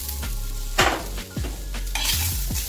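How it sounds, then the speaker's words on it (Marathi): Onion, garlic and ginger frying in a pan: a steady sizzle with repeated scraping strokes of a spatula stirring against the pan, close and loud. "त्यानंतर आता कांदा भाजून घेते त्यामध्येच लसूण पण भाजून घेते लसूण आणि आलं पण टाकून घेते"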